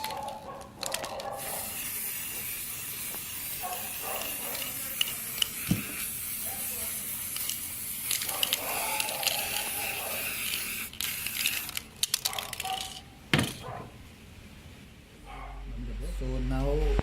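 Hissing bursts of a spray can laying a second coat of paint on a fog lamp during restoration, short repeated sprays separated by pauses, with a voice talking throughout.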